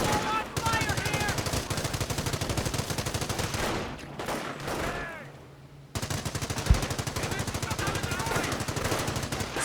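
Sustained machine gun fire in Company of Heroes, a dense continuous rattle of rapid bursts with distant battle noise, dipping briefly before resuming at full loudness, with a single heavier thud near the end.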